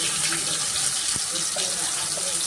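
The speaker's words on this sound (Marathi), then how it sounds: "गरजेनुसार पाणी ओतायचं." Water poured into fish curry masala in a cooking pot, a steady close rushing pour running continuously throughout with a brief light knock partway.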